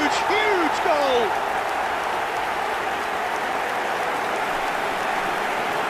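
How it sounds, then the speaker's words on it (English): Stadium crowd in eFootball 2024 applauding a goal, a dense, steady wash of clapping and cheering that holds loud throughout, with an excited commentator's voice briefly rising over it at the start. "Even some of the opposing fans are clapping that."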